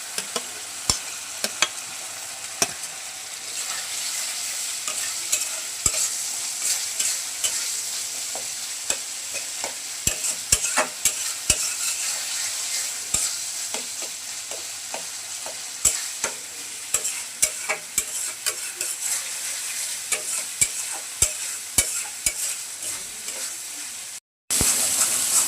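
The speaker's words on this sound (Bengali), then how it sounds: "মশলা থেকে তেল ছেড়ে গেছে, এখন টুকরো করে টমেটোগুলো দিয়ে দিচ্ছি।" Chopped tomatoes fry in oily cooked-down spice paste in a home kitchen pan, a constant close sizzle broken by frequent sharp scrapes and clicks of stirring, with no talking.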